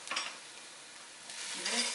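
Minced herbs and garlic are sautéed in a pot for crab cioppino, with a short soft sizzle and a brief scrape of stirring at the start and again near the end.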